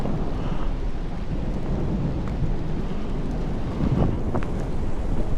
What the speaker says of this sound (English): it's starting to rain, thunder in the distance